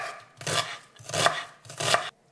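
Onions being chopped with a knife on a board in a home kitchen, three separate bursts of rapid cutting strokes, close and clear, with no talking.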